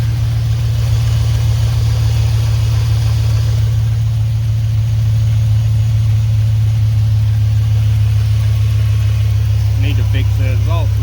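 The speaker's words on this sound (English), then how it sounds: "Need to fix that exhaust leak." A Chevrolet Silverado 5.3 V8 idles steadily up close with an exhaust leak, a constant deep rumble with a faint ticking rasp, while a short voice rises near the end.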